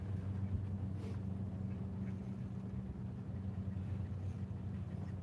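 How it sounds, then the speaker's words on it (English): A low, steady engine drone hums in the distance throughout, consistent with a boat motor passing at moderate volume. "Boat."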